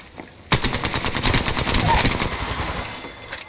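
Rapid automatic weapon fire in Apex Legends, a loud, sustained burst of closely spaced shots that starts abruptly and rattles on for about three seconds.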